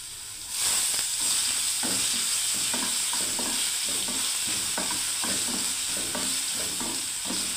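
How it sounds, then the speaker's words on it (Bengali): Garlic paste frying in a pan, a loud continuous sizzle with rhythmic scraping strokes of a spatula stirring it, close up with no voices. "আমি প্রথমে রসুন পেস্ট দিয়ে দিচ্ছি বন্ধুরা"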